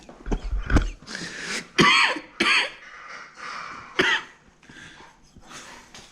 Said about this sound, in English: You done coughing, man?